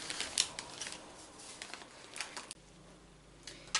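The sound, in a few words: baking paper being peeled off a chocolate mint cake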